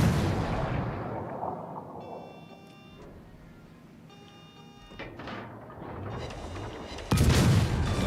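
Warship gun turrets fire at an enemy destroyer in a video game, with muffled rumbling and mechanical clanks early on, then a sudden loud, deep cannon boom near the end.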